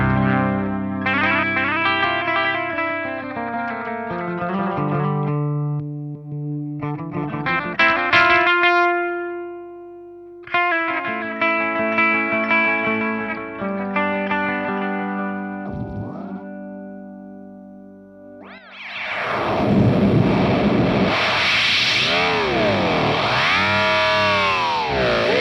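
An electric guitar runs through a Fender Hammertone tape-style delay pedal, playing distorted chords and notes whose repeats trail and smear, ending in a dense, warbling wash of echoes; close, prominent and without talk.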